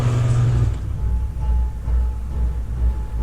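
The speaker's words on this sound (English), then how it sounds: "there is so much traffic out here today" Road traffic passing outside on a busy day, with a low rumbling engine drone and tire noise that swells and fades as vehicles go by, fairly loud and close.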